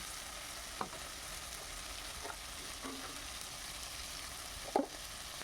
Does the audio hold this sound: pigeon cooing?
no